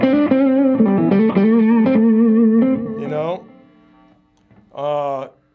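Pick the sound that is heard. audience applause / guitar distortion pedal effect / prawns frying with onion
guitar distortion pedal effect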